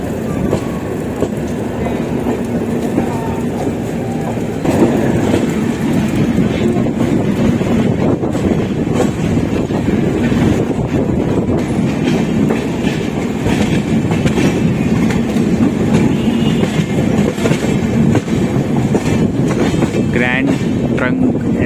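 The Grand Trunk Express, running from Chennai Central to New Delhi, passes close by with a loud, continuous rumble and wheel clatter, buffeted by wind noise on the microphone.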